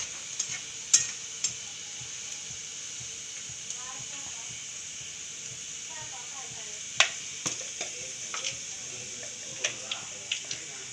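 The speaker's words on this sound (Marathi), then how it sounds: "मी आता फोडणी देणार आहे।" Tempering (phodni) for a capsicum and peanut curry sizzles softly in hot oil, a faint steady hiss dotted with small spatters and utensil clicks, with a voice speaking over it.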